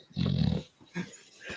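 A pet dog, a female, gives a close, throaty snort-growl, then two shorter breathy snuffles in quick succession, with no voices over it.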